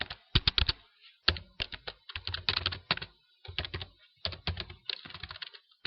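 Quick clacking keystrokes on a computer keyboard come in irregular bursts and short runs with brief pauses, close and clear, with no talking.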